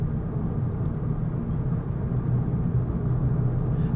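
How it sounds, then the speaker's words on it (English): Tire roar inside a 2018 VW Polo GTI while driving: a steady, low rumbling drone heard from the cabin, constant throughout, with no talking. "There is tire noise."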